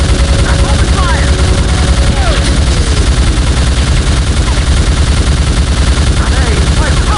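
Relentless gunfire from the video game Soldier of Fortune II fills the scene at close range. Rapid automatic bursts and shots pile into a dense, unbroken barrage, with faint shouting buried underneath.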